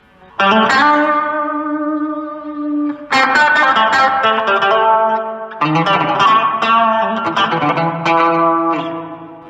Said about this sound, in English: Cool, and now we've got hall reverb.